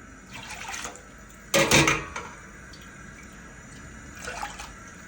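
Water poured into a cooking pot for a Thai dish of chicken, a short, loud burst of splashing and pouring in the middle, with a smaller trickle near the end over quiet room noise.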